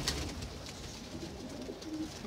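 Kamangar (Kamagar) pigeons with purple-blue feet, a fancy breed kept by a pigeon fancier, give soft low cooing under a constant wash of background noise, fairly faint and without voices.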